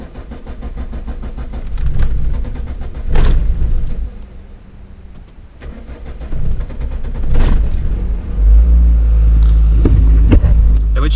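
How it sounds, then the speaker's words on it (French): A Volvo 480 ES engine running on ethanol cranks and catches in winter, then idles and revs in a steady low rumble close by, with a few clunks along the way. "La voiture a démarré."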